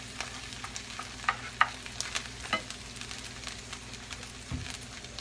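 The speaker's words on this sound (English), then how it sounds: "got that all frying up in there a little bit" Carrots and onions fry in butter for hibachi-style rice, a steady soft sizzle broken by scattered clicks and scrapes of stirring, close by with no talking.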